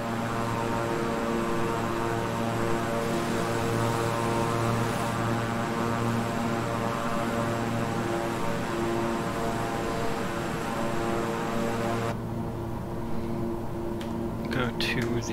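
A King Air 350i twin-engine propeller plane in Microsoft Flight Simulator drones steadily with a constant tonal engine hum and propeller buzz, loud and unbroken, the tone shifting slightly near the end.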